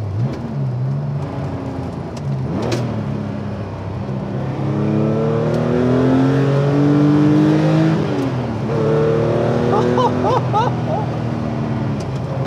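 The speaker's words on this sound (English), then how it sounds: "I love that air cooled sound" A flat, rushy air-cooled Porsche 911 engine drone with a rising and falling pitch as the car accelerates and shifts, steady and close throughout, with wind and road noise underneath.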